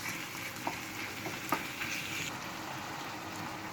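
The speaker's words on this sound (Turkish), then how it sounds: "Ve hepsini birlikte kavuruyoruz." Diced chicken sizzles steadily in a hot pan, a dense crackling hiss with a few louder pops and light scraping of stirring.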